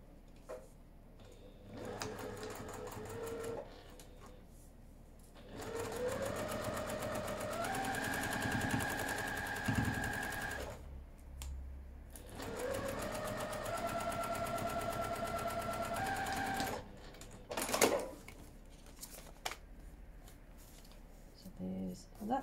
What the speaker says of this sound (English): sew the seam.